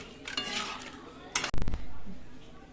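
A metal pot lid set down over a vegetable curry of puimituli and winter vegetables after stirring, a brief clattering clank preceded by faint scraping of cookware, fairly close.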